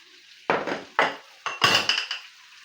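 Meat stew with potatoes and peas is stirred in a pot, a utensil scraping and knocking against the sides in about five separate clanking strokes with short quiet gaps between them.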